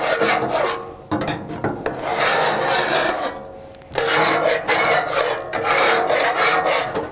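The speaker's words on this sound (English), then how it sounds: "Scrape all that right off." Rust being scraped off the cast iron cooking surface of a Blackstone griddle, a loud, steady rasping scrape in long strokes with two short pauses between passes, close up and with no talking.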